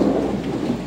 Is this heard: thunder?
yes